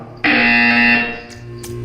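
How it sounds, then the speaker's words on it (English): A harsh electronic buzzer in the Portal 2 game sounds once for about three quarters of a second, loud and close, then fades away. "When you hear the buzzer, stare at the art."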